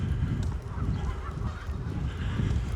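Geese honking outdoors around a lake in spring, a dense continuous chorus of calls from several birds carrying over steady background noise.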